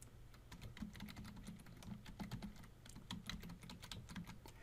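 Rapid, steady typing on a computer keyboard as a Linux terminal command is entered, with close, crisp key clicks and no talking.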